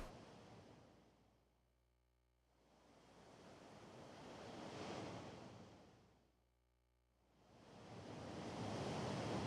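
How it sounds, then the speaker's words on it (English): Ocean surf in the racing game Outrun 2006: Coast 2 Coast, with two soft swells of crashing waves rising and receding, separated by brief quiet lulls, heard alone without talk. "sounds like ocean waves"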